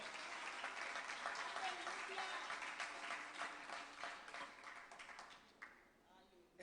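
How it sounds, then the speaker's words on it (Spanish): A church congregation applauds for the Lord during a Spanish-language sermon, a dense wash of clapping that gradually thins and fades, with a voice speaking over it. "Dele un aplauso al Señor, si usted lo cree."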